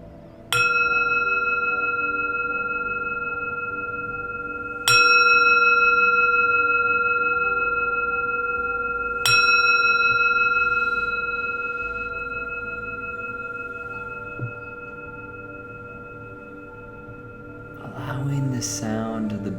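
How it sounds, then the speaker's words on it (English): A meditation bell at a silent retreat is struck three times at even intervals of about four and a half seconds, each bright, clear strike ringing out in a long sustained tone that slowly fades and overlaps the next. "we begin the Silent Retreat by listening to the bell of silence. I'll ring it 3 times"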